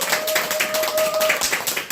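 Brief clapping from an audience at a talk, a quick run of hand claps heard up close alongside faint voices and a steady tone.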